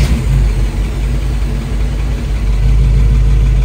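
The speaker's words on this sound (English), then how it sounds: "listen to that exhaust, just an idle" A 1971 Chevelle SS 454 convertible with a big-block V8 idles through its exhaust, a steady, loud, deep rumble with no speech.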